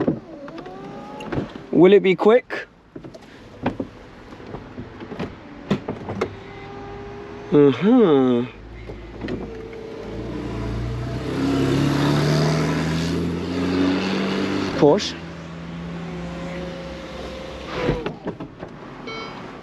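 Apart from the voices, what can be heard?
convertible hard top roof retracting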